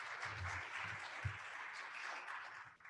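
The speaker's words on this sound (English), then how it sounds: "I love your clapping." Audience applause fills a hall at the Texas Lyceum 2021 investiture ceremony, a steady, fairly faint patter of many hands that holds for a few seconds before thinning out.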